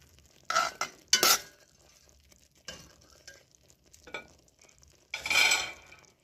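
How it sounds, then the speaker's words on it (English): Aromatics cook in a pot for Jamaican salt mackerel run down, with soft sizzling under scattered scrapes and clinks of a utensil stirring against the pot, in short irregular bursts. "let me allow those to cook a little bit before adding the mackerel"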